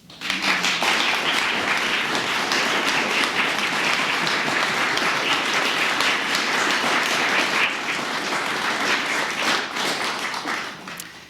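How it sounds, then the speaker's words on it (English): Sustained, dense applause from the audience at a mayoral debate forum, many hands clapping steadily at full strength for about ten seconds before dropping off. "Audience, I feel they deserve applause"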